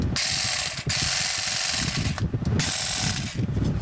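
An attachment is forced onto an Ozito hedger, producing loud, continuous ratcheting and grinding mechanical clicks with a few brief pauses and knocks.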